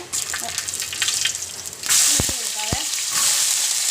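Mustard seeds hit hot oil for a kappa biryani, with sliced onions following, and a bright hiss jumps up halfway through, loud and close, after some quieter scraping and clicks.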